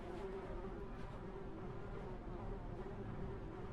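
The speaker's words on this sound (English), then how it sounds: "I hear the incessant buzzing of flies" Flies buzz incessantly near a boarded-up white house in a Halloween adventure game, a quiet, steady insect drone with a faint hum running throughout and no voices.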